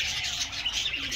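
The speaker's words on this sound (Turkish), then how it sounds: "muhabbet kuşları ve sultan papağanları birlikte yaşıyorlar" Budgerigars and cockatiels in a partly covered outdoor aviary in winter chirp continuously, a busy overlapping chatter of tweets and squawks heard at moderate distance.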